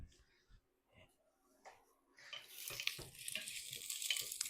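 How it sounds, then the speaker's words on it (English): Sausages sizzle in a pan for a sausage, leek and apple stew: a few quiet knocks and clatters, then a bright, crackling sizzle rises and holds steadily at moderate loudness. "you might be able to hear that the sausages are sizzling away."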